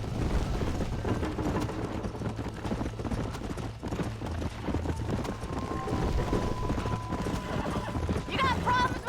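In the Red Dead Redemption video game, a horse's hooves clip-clop in a steady rhythm under talk, and near the end a shrill neigh rings out.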